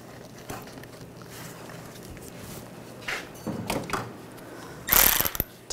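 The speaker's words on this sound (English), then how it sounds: "Tighten down the worm clamp." A ratchet clicks in short, quick bursts while tightening a worm-drive hose clamp on a 2004–2009 Toyota Prius during fuel injector replacement, close and fairly faint, with a louder burst near the end.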